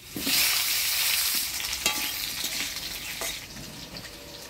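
Potatoes with whole cumin seeds sizzle in hot oil in a sustained, close hiss, with a few sharp crackles and light stirring taps and no voices.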